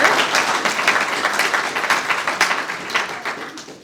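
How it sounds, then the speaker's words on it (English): An indoor audience at a civic event claps in a loud, dense burst of applause that holds strong, then gradually thins and fades toward the end. "So let's give them another round of applause for all that they do here."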